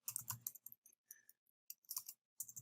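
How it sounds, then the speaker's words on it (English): A git remote command being typed on a computer keyboard: irregular bursts of crisp, close key clicks with short pauses between runs, no talking. "let's go ahead and type that in"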